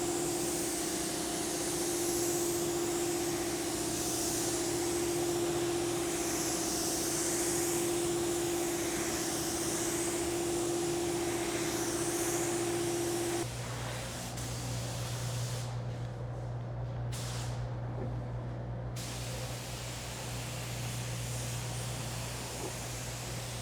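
A spray gun hisses steadily, laying base coat paint on a car in an auto restoration shop, a long continuous airy rush that drops in tone partway through and briefly cuts out twice near the end.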